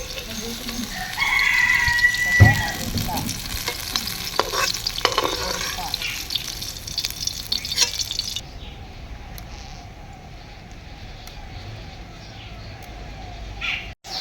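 Black mustard seeds, whole cumin and curry leaves hit hot oil for an upma tempering, crackling and sizzling with scraping stirs, busy and loud at first, then settling to a quieter steady fry.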